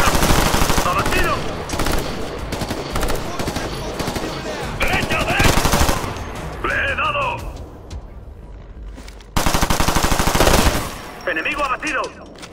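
Turret machine gun in Ghost Recon Future Soldier firing in several loud, long automatic bursts separated by brief pauses, with shouted voices and radio chatter between and over the gunfire.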